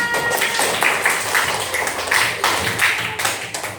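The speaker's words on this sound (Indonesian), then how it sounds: "sambut dengan tepuk tangan yang meriah." A small group claps in a quick, uneven burst of applause, close by and moderately loud, with faint voices mixed in.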